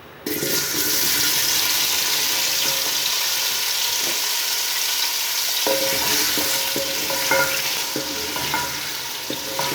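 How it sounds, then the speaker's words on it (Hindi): Taro root (arbi) fries in hot ghee with a loud, steady sizzle that runs throughout, broken by the scrape and clatter of occasional stirring. "घी हमारा गर्म हो चुका है। इसमें अरबी डालते हैं, अरबी को फ्राई कर लेते हैं।"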